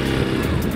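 Motorcycle engine running close by during a riding lesson, a steady loud drone held through a short moment with no talk over it.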